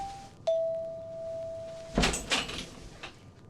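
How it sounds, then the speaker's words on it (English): A doorbell rings in a live radio-show recreation of a 1940s Bob Hope Pepsodent broadcast: a single sustained electric bell tone that holds steadily, then gives way to footsteps and door sounds. "I had barely gotten back to my apartment when the doorbell rang."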